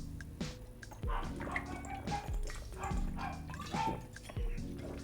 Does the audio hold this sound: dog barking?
yes